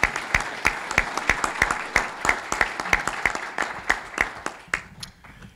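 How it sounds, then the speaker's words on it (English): Scattered audience clapping at a press conference for a new Houston football stadium: distinct, sharp individual claps in an uneven rhythm that thin out and fade over about five seconds. "So give them a round of applause."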